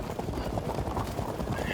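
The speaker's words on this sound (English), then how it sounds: "the light cavalry comes in." Cavalry horses' hooves clatter in a dense, continuous clip-clop from the Field of Glory II strategy game, with a brief whinny and a voice talking over the steady galloping.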